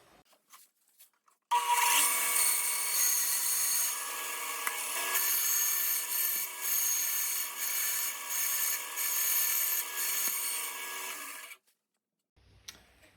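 A bandsaw with a circle jig cuts a circle in wood in one long continuous pass, a steady high whir with slight fluctuations, starting and stopping cleanly.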